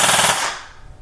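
An airsoft AEG AK replica with a Perun V3 clicker trigger fires a short, loud full-auto burst lasting about half a second, then goes quiet with no voices.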